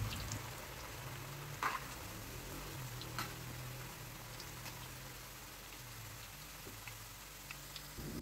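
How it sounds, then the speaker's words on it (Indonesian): Slices of yellow sweet potato frying in hot oil over medium heat give a quiet, steady crackling sizzle with scattered small pops throughout. "Setelah minyak panas, bisa dimasukkan irisan dari ubi jalarnya tadi."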